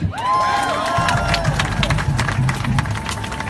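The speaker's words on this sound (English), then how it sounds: "Again, a round of applause to Melissa Mark Riverito, our former Speaker of New York" Applause and cheering from a rally crowd, dense and steady throughout, with a voice and crowd babble mixed in above the clapping.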